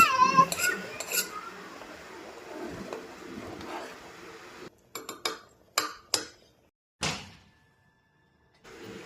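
Khichdi with salt, chili and spices is stirred in a metal pot, a spoon giving a few sharp, separate clanks and knocks against the rim after a stretch of softer scraping and rustle, close and fairly quiet.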